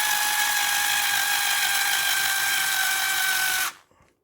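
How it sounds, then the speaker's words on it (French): An electric screwdriver drives a screw into a Tamiya TT-02 Lancia Delta Integrale RC car kit, a steady, loud mechanical whir lasting several seconds before it stops abruptly, close to the microphone with no talking. "allez hop, un petit coup de tournevis électrique"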